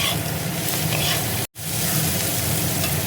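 Ghee karola bharta fries in a pan as grated coconut goes in, giving a steady, close, crackling sizzle that is interrupted by a very brief cut midway, with no talking.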